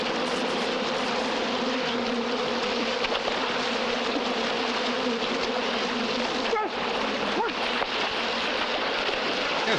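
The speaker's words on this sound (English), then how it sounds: "What are the bees going after that for?" Bees buzzing in a dense, continuous droning swarm that stays loud and steady throughout, with no clear talk.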